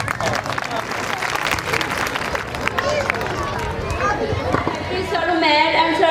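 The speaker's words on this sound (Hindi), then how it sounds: "एक दफा हमारे पूरे स्टाफ के लिए खड़े होकर ताड़ियां बजा।" An audience at a school annual prize distribution applauds the staff, steady dense clapping from a large crowd with cheers and chatter, swelling louder toward the end.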